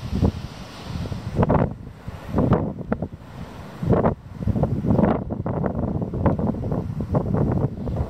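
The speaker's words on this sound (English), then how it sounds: "It's really warm, but the wind is quite strong." Strong gusty wind on a beach at Titchwell Nature Reserve buffets the microphone in loud irregular bursts, roaring and easing repeatedly, with no talking.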